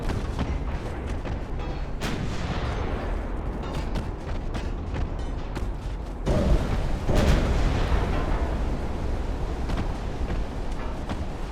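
Torpedo strikes on a warship in Ultimate Admiral Dreadnoughts: booming explosions and heavy rumbles over continuous naval battle noise, with a larger, louder blast rolling out near the middle.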